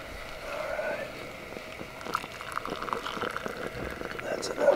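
Water pouring into a seafood chowder MRE pouch, a continuous trickling, bubbling fill with small splashes that swells slightly toward the end, close up and moderately loud.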